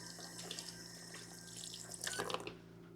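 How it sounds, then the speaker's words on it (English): Tap water runs steadily into a kitchen sink during handwashing, a quiet continuous splashing with a brief busier burst of spatter near the end, no voices over it. "Wash my hands."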